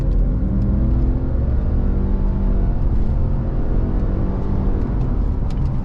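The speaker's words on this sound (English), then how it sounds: "let's floor it" A Subaru Ascent with a CVT accelerates at full throttle, its engine drone loud and steady, climbing smoothly in pitch without gear-shift breaks, heard close from inside the cabin with a constant low rumble.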